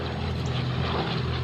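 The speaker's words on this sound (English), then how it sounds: "Some British Vampires arrive in France." British de Havilland Vampire jet fighters arrive, a loud continuous engine roar with a steady low rumble, unbroken throughout.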